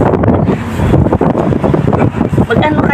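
Gusty wind blows outdoors and buffets the microphone with a loud, continuous rumbling roar that rises and dips, with faint voices underneath.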